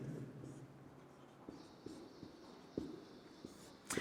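Someone writes on a board during a chemistry lecture. Faint, sparse taps and scratches are spread across a quiet room, with a soft burst near the end.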